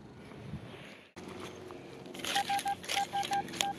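A metal detector sounds a repeated, steady beeping signal over a target in a stubble field, several short even pulses in a row after a brief handling scuff, fairly loud and close with no talk.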